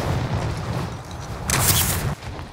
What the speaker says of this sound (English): A Nebula 5 bomb has been deployed